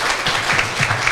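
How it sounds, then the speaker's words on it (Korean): An audience at an academy opening ceremony and thanksgiving service applauds three organizers, producing a steady wash of clapping, fairly loud and continuous, with no voices over it. "보좌관님 세 분에게 뜨거운 박수를 보내주시면 고맙겠습니다."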